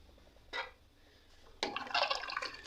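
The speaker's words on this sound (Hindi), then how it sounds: "ये हमने इसके अंदर पानी लगा दिया।" Water is poured into a pot of fried potatoes and mutton, giving a brief splash and then a louder rushing, sizzling pour that continues to the end, close by.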